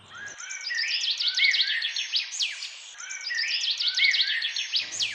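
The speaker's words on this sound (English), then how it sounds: "A bird is chirping." A bird chirps in rapid, high twittering phrases, close and clear, repeating in two bursts against a quiet background.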